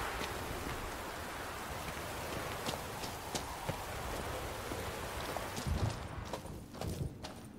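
Steady rain hisses across an outdoor scene in The Witcher 3, with soft horse hoof clops and footsteps stepping through it near the end.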